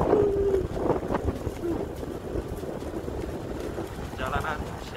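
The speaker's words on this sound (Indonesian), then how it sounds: "Kali ini naik motor seperti biasa. Adem, sepoi-sepoi." Wind rushes steadily against the microphone on a motorbike ride through town during the day, a continuous low buffeting rumble with a voice speaking over it.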